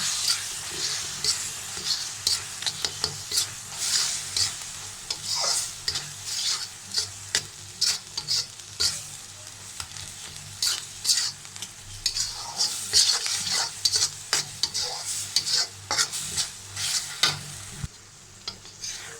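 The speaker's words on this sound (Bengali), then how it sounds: "ভালোভাবে চকলেটটাকে মিশিয়ে নেব।" A spoon stirs chocolate into a thickening paneer sweet mixture in a hot pan, giving a steady run of scraping strokes over soft sizzling, close and fairly loud.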